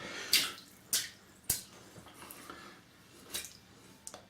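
A wet shaving brush is shaken sharply several times, each flick giving a brief spattering burst at irregular intervals, close and fairly quiet with no talk.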